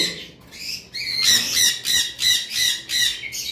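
Green Fischer's opaline lovebirds give a run of sharp, high chirping calls in quick repeated bursts, loud and close, with no talking over them.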